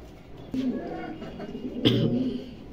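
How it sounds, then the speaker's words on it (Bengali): A pair of Pakistani pigeons coos at close range, soft low rolling calls repeated twice over faint background noise. "কবুতর দুটো খুব ডাকে, খুব অ্যাক্টিভ কবুতর"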